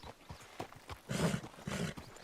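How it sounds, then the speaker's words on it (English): A skittish horse in a video game gives soft, low nickers in two short bursts, quiet and close, following a few light hoof clops. "he's nickering a little bit"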